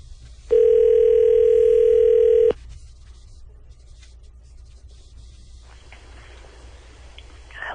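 Telephone on an outgoing call sounding a single steady ringback tone that lasts about two seconds, clear and prominent, followed by near silence with faint rustling.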